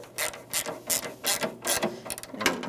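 Ratchet socket wrench clicking in repeated bursts of rapid pawl ticks while starting headlight bolts on a 1994-2001 Dodge Ram 1500 pickup, close and crisp, with no talking.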